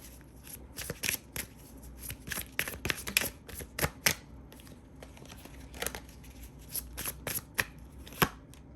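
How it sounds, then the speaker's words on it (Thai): Tarot cards shuffled by hand during a reading, a run of quick riffling snaps and soft slaps in irregular bursts, close and fairly faint, no voices. "ขอดูเพิ่มนะคะแล้วแนวโน้มกับ กับไพ่แนะนำนะคะ"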